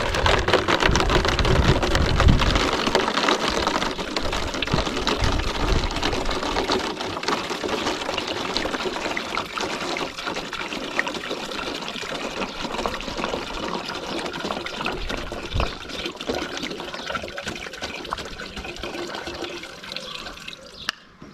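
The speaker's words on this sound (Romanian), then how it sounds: "Voi pune apa." Lukewarm water is poured into a plastic PET bottle to make a yeast fertilizer solution, a continuous splashing, gurgling flow that starts strongest and gradually softens as the bottle fills.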